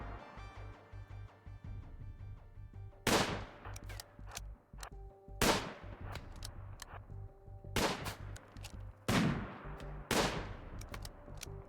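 Gunshots from a colony firefight in the video game RimWorld: about eight sharp, loud cracks come in irregular bursts over a low steady game hum, with no talking.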